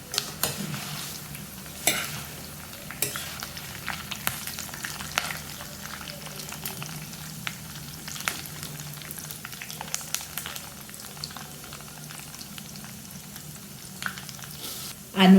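Cashews, curry leaves and freshly crushed garlic frying in oil in a pan while being stirred, with a soft continuous sizzle broken by repeated spoon scrapes and light clinks against the pan, ending in a louder knock.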